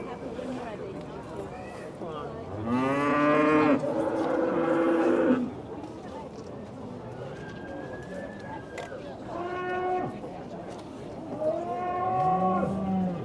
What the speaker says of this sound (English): in the cattle classes